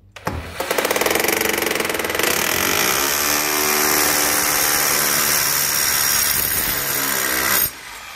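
A power drill boring a hole through a coin, whining steadily and loudly for about seven seconds with a gritty, vibrating tone as the bit cuts metal, then cutting off abruptly, with no talking.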